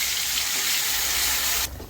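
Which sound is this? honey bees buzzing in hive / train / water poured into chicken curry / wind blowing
water poured into chicken curry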